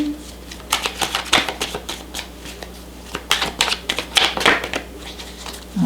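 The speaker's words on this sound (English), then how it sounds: "the shuffling is just taking forever" Tarot cards are shuffled by hand in repeated riffling bursts, crisp papery flutters and taps with short pauses between them, close to the microphone.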